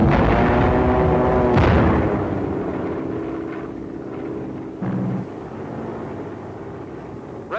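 Bombs from medium Mitchell bombers exploding during a wartime air raid on supply, fuel and ammunition dumps, heard as loud, rumbling blasts with sharp booms layered over continuous aircraft drone.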